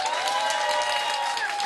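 Audience applause for a Brazilian guitarist after a song, a steady wash of clapping with light crowd noise, fairly distant and even throughout.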